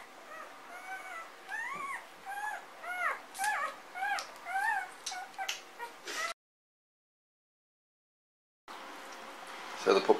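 Three-day-old puppies whimper and yip in a rapid run of high, wavering cries, close and fairly loud, then fall silent for a few seconds before a brief burst of rustling noise returns.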